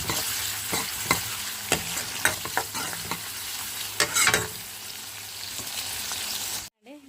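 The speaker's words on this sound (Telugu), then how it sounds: "ఇలా అయితే ఆనియన్స్ బ్రౌన్ కలర్ కింద ఫ్రై చేసేసుకోవాలి" Onions frying in a pan, a steady close sizzle with sharp spatula scrapes and stirring knocks at irregular intervals, running for several seconds before cutting off abruptly, with no talking.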